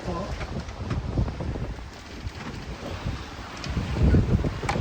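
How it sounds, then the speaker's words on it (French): Strong wind of about 22 knots buffets the microphone in gusts on a sailboat in Greece, with rushing water and boat noise underneath, rising louder toward the end. "ça a forcé un petit peu, 22 nœuds de vent"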